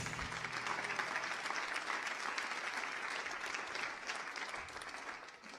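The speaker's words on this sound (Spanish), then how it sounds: "Y le damos un aplauso a Jesús." A church congregation claps together at a sermon, steady dense applause throughout, fairly even in level and fading slightly toward the end, with no speech.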